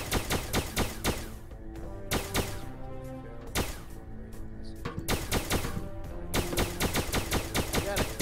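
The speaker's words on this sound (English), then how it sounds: "I was firing my gun off." Gunfire in the video game Starbound: loud bursts of rapid shots in repeated volleys with brief pauses between them, sharp and close throughout.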